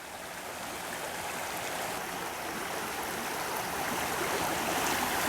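Water of Frog Creek flowing on a cold night, a steady close rushing and babbling that fills the whole stretch and grows slightly louder toward the end, with no voices.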